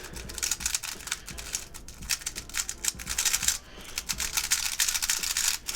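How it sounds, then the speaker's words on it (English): A heavily lubricated GTS2 speed cube is turned continuously by hand, giving a dense, steady clatter of quick clicking layer turns with no pauses, close to the listener. "Just to kind of give you guys an example of that sticky sound, my GTS2 is a pretty good example of it."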